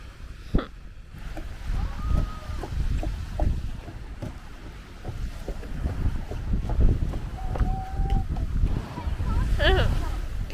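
Wind buffets the microphone on a boat out on the water off Okinawa, a rough low rumble throughout with splashes and engine noise, and people talking and calling out now and then.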